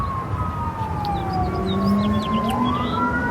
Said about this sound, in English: Sirens on the street.